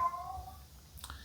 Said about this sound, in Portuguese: esse é meu gato reclamando, né?